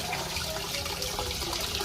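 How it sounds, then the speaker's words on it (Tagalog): Natural mountain spring water from a forest flows in a close, steady rushing trickle, continuous and fairly loud across the short stretch, with no voices. "tubig galing sa bundok."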